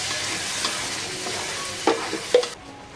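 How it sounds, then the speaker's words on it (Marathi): Spice paste sautéing in hot oil for a cauliflower and pea curry, a steady close sizzle with a few sharp clinks of a stirring spoon against the pan near the end. "इथे आपण मसाल्याची पेस्ट घालून छान हे मसाला भाजून घेऊया"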